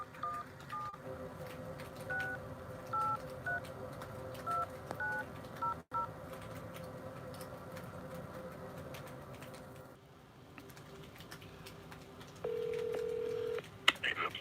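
Telephone keypad tones beep one after another as a number is punched in to call a police lieutenant, followed by a steady ringback tone. A faint hum and muffled voices sit underneath.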